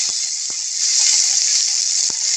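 Onion paste, with green chilli, garlic, ginger, cumin and coriander pastes, sizzles in a hot wok in a steady bright hiss, with a few faint clicks of utensils.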